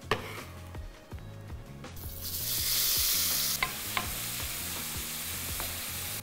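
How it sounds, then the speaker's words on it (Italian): Chopped onion added to rendered pancetta fat in a frying pan: quiet ticking at first, then a louder hissing sizzle swells and settles, with a few sharp utensil clicks and no talk. "lasciate il grasso nella padella. E mettiamoci la cipolla."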